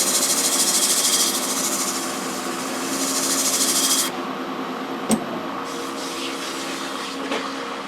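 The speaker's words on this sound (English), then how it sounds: "So if I just quickly sand those off," Quick power sanding of a small wooden platter, a loud continuous whirring hiss that eases after four seconds into a lower steady drone with a brief click, nothing spoken.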